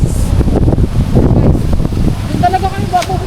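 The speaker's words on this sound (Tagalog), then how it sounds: "Sarap na hangin." Strong outdoor wind buffets the microphone in a steady low roar throughout, with a person's voice faintly audible near the end.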